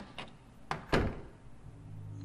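A door in Silent Hill opens with a few knocks and thuds, a light tap and then a heavier clunk, close and clear with no voices.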